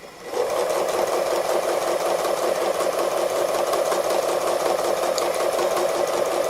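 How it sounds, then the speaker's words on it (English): A sewing machine does free motion embroidery around the outline of an autumn owl wall hanging, running as a close, continuous, even buzz from a fraction of a second in to the end. "so we're just going to sew around the outside first."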